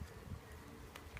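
Honeybees drone in a steady, dense buzz at an open beehive on a farm in Manoa, close and even in level throughout.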